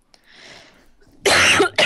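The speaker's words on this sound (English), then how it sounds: "You lose all the intensity when you cough immediately afterwards" Two loud, close coughs in quick succession, a longer harsh burst followed by a short second one, after a faint breathy rustle.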